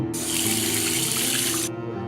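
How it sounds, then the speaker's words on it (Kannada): Water runs from a bathroom tap in a steady, close splashing stream that starts suddenly and cuts off just as abruptly. "ಬಚ್ಚಲ್ ಮನೆಯಲ್ಲಿ ನೀರು ಸೌಂಡು"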